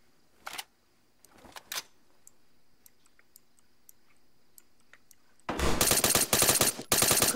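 Gunfire in the video game ARMA 3 during an infantry firefight: a few sharp isolated shots early, then sustained loud automatic bursts in rapid rhythm over the last couple of seconds, with no voices.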